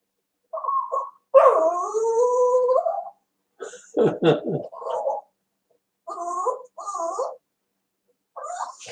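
A dog whimpers and howls nearby in several short, wavering bouts separated by brief silences, with no one talking.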